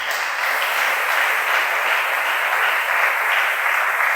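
A church congregation applauds and cheers the word of God during a sermon, with a dense, steady roar of clapping from a large crowd that holds at an even level from start to finish.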